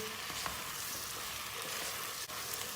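Potatoes sizzle and crackle steadily in a frying pan, a dense, continuous hiss with faint scraping as they are turned, no voices over it.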